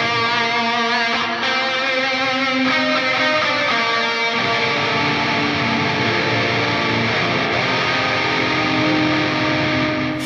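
Heavily distorted electric guitar played through a Line 6 HX Stomp set for a metal/djent tone, drenched in a lush plate reverb with long trails; dense sustained chords ring loud and continuous with no talking.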